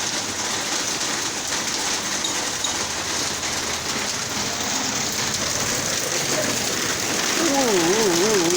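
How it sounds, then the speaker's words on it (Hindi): Heavy rain pours down in a dense, continuous hiss that covers everything, with a brief whistling or wavering tone rising near the end. "और बारिश बहुत ही कमाल की लग रही है।"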